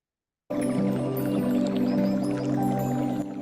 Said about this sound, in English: आपको पास ही में water sound सुनाई दे रहा है